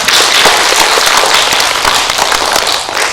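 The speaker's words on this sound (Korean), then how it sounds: "발제해주신 오은진 교수님께 다시 한번 박수 부탁드립니다." An audience at a civic group forum applauds steadily, a dense, loud and continuous burst of clapping filling the whole stretch with no talk over it.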